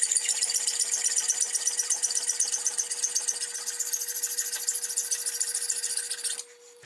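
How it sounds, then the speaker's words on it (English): Hacksaw cutting through a hammer handle held in a vise, with fast even rasping strokes close up and loud, steady until the cut stops near the end. "I like to take a hacksaw."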